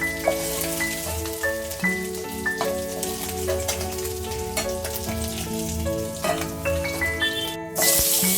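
Fish crackles and sizzles in hot oil throughout, while background music with sustained tones plays along at moderate volume.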